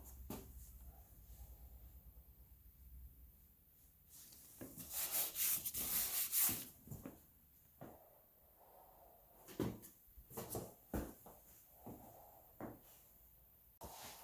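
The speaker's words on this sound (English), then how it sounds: "Time to sand the entire bumper down and get it prepped for paint." Sandpaper rubbing over body filler on the rear bumper of an EF Honda Civic, heard as irregular scraping strokes, a dense burst mid-way, then shorter separate rubs close by.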